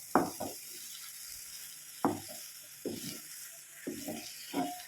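A snack mixture fries in ghee in a pan while a spoon scrapes and stirs it. The sizzle stays steady underneath, and louder scraping strokes land irregularly, roughly once a second, close up and with no talk.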